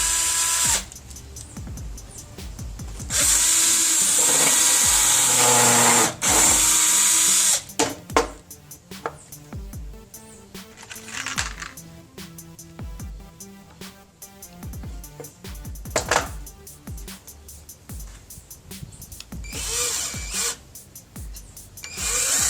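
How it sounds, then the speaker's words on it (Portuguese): A power drill bores a pilot hole in wood, with loud, close bursts of high whine separated by pauses and then softer scraping and handling noises. "Fazer um furo guia."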